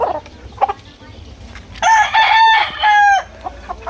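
A Sweater gold gamefowl rooster gives one loud, close crow lasting over a second, with drawn-out tonal notes, among quieter clucks and farmyard noise.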